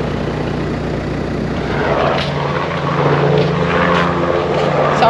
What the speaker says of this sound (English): Sorry, I'll just wait for the helicopter.